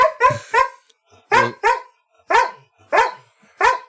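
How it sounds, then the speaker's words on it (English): A dog barking close by, seven sharp, loud barks spaced in pairs and singles with short silent gaps between them, and no talking over it. "Good dog."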